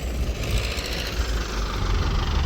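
A Skaut TD-1104C tractor working in a field with a General 2.6 disc harrow, giving a continuous loud diesel drone with a rough, knocking low rumble throughout and no voices.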